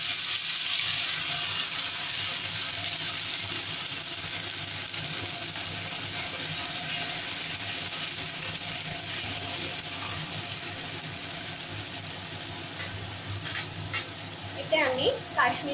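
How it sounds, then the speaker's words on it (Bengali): Poppy seed and green chili paste frying in oil with black cumin for a Bengali posto parshe fish dish, a steady broadband sizzle with stirring scrapes that grow clearer near the end. "তারপর আমি পোস্ত আর কাঁচা লঙ্কা বাটাটা দিয়ে দেবো।"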